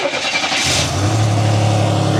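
A car engine runs with the transmission in park, a steady mid-pitched hum that settles into an even idle after a brief rise, close and loud.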